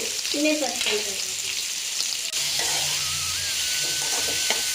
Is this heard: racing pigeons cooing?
no